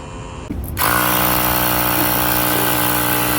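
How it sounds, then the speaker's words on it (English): Steady, close mechanical whine and hum of a portable tire inflator pumping air into a low van tire in the snow, starting up after a short pause and running continuously. "the tire's a little low, so I'm gonna put some air in it."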